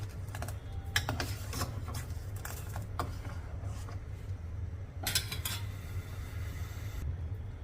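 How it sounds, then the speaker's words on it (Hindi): Sugar being stirred into sabudana kheer in a pot, with a spoon scraping and clinking in short irregular bursts over a low steady hum from the stove, no voices. "अब एक बार इसे अच्छे से मिक्स कर लेंगे।"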